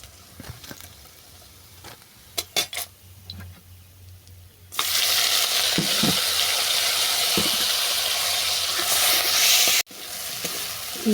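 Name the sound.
prawns frying in oil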